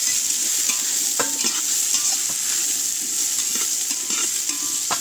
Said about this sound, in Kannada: ಆನಿಯನ್ ಪಾರ್ದ ತುಪ್ಪ ಆದಮೇಲೆ ಆನಿಯನ್ ಹಾಕೋದು